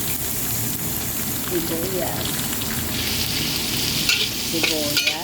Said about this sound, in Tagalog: Tapos ilagay natin ang sibuyas.